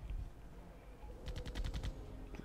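Machine gun fire from a German machine gun nest in a World War II strategy video game, a quick rapid burst of several shots in the middle over a low rumbling background.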